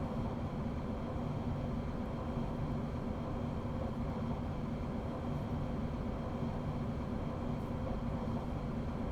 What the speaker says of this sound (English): There's another Talent 2 we're passing.